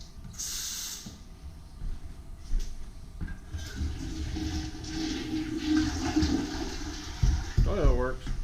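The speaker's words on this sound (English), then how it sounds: "toilet works. Solid." A toilet flushes in a duplex during a walkthrough, a rushing gurgle of water swirling and draining close by, while a person talks over it and ends with a brief muffled vocal sound.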